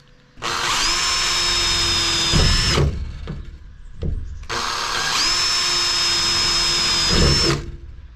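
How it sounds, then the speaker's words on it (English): A power drill whines loudly in two long bursts, each about two and a half seconds, separated by a short pause with some knocking, drilling holes in the corners of a window cutout on a VW Crafter van. "the next job is to get the drill out and just drill a few holes"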